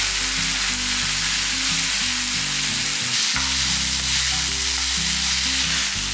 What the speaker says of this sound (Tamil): வெண்டைக்காய் இந்த அளவுக்கு வதங்கினதுக்கப்புறம் தக்காளியெல்லாம் சேர்த்துக்கணும்